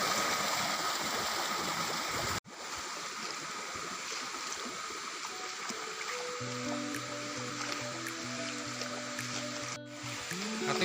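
Clear stream running over slippery stones near a small waterfall, a steady broadband rush of water throughout, with a brief dropout early on and a faint low engine-like hum joining in the second half.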